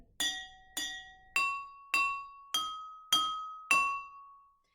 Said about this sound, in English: It's our homemade xylophone.